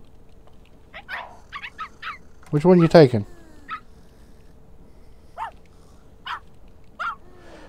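Dogs in The Sims 3 video game bark and yip in short scattered bursts, with one louder cluster of barking in the middle, under a person talking over the game.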